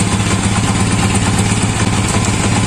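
A TMX155 motorcycle engine with a freshly rebuilt motor idles loudly and close, a steady dense mechanical clatter that runs unbroken throughout without any voices.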